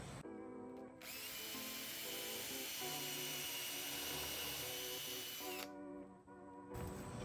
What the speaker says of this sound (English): I used this countersink bit to make these countersink holes.